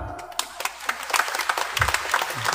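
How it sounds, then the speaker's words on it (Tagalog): A church congregation claps during a Filipino homily, scattered hand claps building into steady, moderate applause across a short stretch inside a reverberant hall. "pwede bang pumalakpak?"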